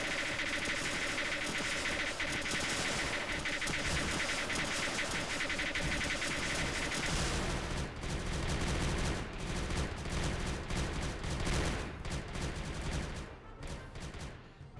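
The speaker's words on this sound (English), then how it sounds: "anybody want to hear a lot of weapons?" Many weapons firing at once in the Creeper World game, a dense, continuous barrage of rapid overlapping shots that stays loud and nearly unbroken before thinning slightly near the end, with no talk over it.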